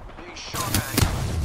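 Gunfire bursts from a competitive shooter game, a couple of sharp loud shots after a quieter moment, ending in a rattling spray with no talk over it.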